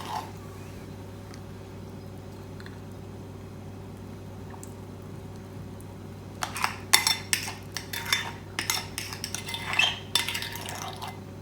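A spoon clinks and scrapes against a glass in quick, uneven bursts while dalgona coffee mix is stirred into milk. The stirring starts after a quiet stretch and stays close.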